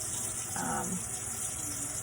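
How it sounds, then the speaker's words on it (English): Tap water runs steadily into a sink while hands are washed with soap after a cut, a faint continuous hiss with a brief splashy change partway through. "wash my hands with soap and running water"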